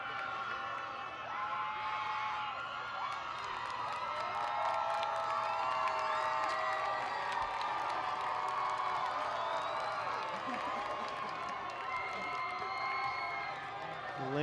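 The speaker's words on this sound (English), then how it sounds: "The Lancer crowd giving a big round of applause for the Lancer volleyball team" The Lancer home crowd applauds the Lancer girls volleyball team at a high school football game against Lowell: a distant, sustained wash of clapping, cheers and scattered whoops with children shouting, and an announcer's voice faintly beneath.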